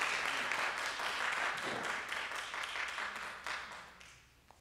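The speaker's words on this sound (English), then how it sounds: "Let's give him a round of applause as he comes to the stage." An audience at a spring and vesper concert applauds as the director walks to the stage, a dense wash of clapping that slowly fades toward the end.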